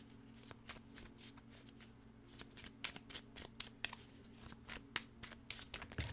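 A tarot deck shuffled by hand in a quiet room, a rapid run of crisp card riffles and slaps, soft and close.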